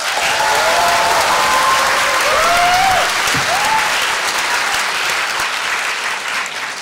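A lecture hall audience applauds warmly and steadily after a political talk by a presidential hopeful, the dense clapping holding at a loud, even level throughout with a faint murmur of the crowd beneath.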